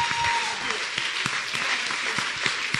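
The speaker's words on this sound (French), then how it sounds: "Est-ce qu'on peut l'acclamer, mes amis?" A church congregation claps and cheers, a dense steady wash of applause with scattered distinct claps, filling the room throughout.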